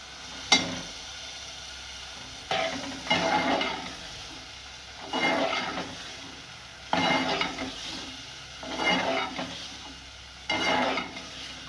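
Peas are tipped into a sizzling pan while frying, bursts of loud crackling sizzle flaring up repeatedly in waves about every two seconds, close by with no talk.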